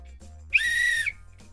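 A single sharp referee-style whistle blast lasting about half a second, shrill and close, standing alone after a brief pause.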